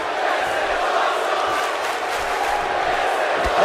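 Wrestling arena crowd at a live wrestling show roaring and cheering steadily throughout, a dense continuous wall of voices with occasional louder whoops rising near the end.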